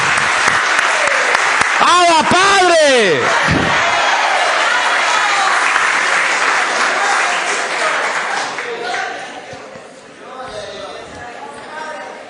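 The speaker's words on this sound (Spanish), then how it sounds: "¡Dele un aplauso!" Church congregation applauding and cheering loudly at a Spanish-language worship service, a dense sustained roar of clapping over about ten seconds, with a preacher's shout rising above it early on before the noise slowly thins.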